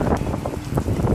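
Strong gusty storm wind buffeting the microphone in Broward County, Florida, a loud low rumble that rises and falls without a break.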